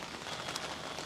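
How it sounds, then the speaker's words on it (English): Steady rain falls outdoors while a wind kicks up, a dense even hiss of drops spread across the whole moment with no pauses or talk. "Conveniently, it's raining and the wind just kicked up"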